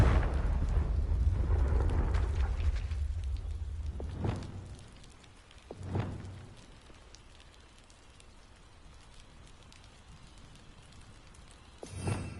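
In the game Hogwarts Legacy, the Confringo fire spell bursts in a loud rumbling blast that fades away. Two sharper impacts follow, and a final hit comes near the end.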